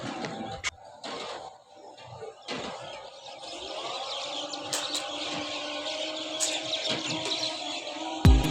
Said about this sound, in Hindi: इतना प्यारा लगता है ना इस तरह एक ही टाइम पर बहुत ज़्यादा ग्रुप्स में ऐसे चिड़ियाँ वगैरह उड़े ना